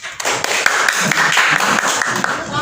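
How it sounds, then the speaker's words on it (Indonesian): Classroom applause from students after a group presentation during a teacher-training practice lesson, a dense burst of clapping lasting a few seconds at steady loudness. "Tepuk tangan."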